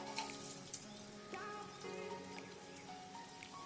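Cumin, black pepper, chopped ginger and cashews fry in two tablespoons of hot ghee, giving a steady, fairly faint crackling sizzle like light rain that runs on without pause.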